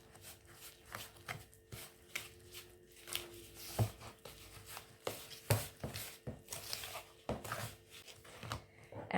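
Yogurt being stirred into donut batter in a bowl, irregular scraping and knocking strokes of a utensil against the bowl, close and fairly quiet with no voices.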